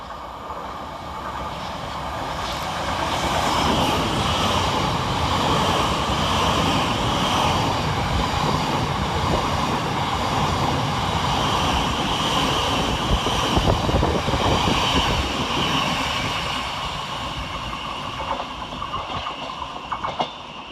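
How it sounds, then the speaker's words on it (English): Thameslink Class 700 unit 700-105 passing through Preston Park station on a Cambridge to Brighton service, a long, loud, close rumble of wheels and rail clatter that swells, holds, then eases away. "coming in the opposite direction is 700-105, working 9 Sierra 17 for Thameslink from Cambridge to Brighton"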